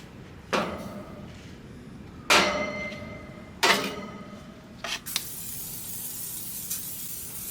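Avocado oil spritzed from a spray bottle onto hatch chile salsa ingredients cooking over a gas grill: three sharp, close hissing spray bursts followed by quieter clinks and a steady low sizzle, with no talking.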